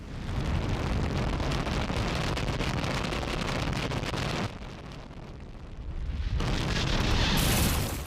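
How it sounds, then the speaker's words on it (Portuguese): A long, loud roaring cartoon explosion blast that dips briefly partway through, then surges again into a heavy rumbling roar. "Fry vê pelo retrovisor a explosão"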